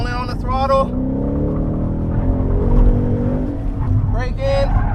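A 2017 Ford Mustang GT Performance Pack V8 pulls hard out of a corner on a racetrack, its engine note rising steadily and loud throughout, with a driver talking over it.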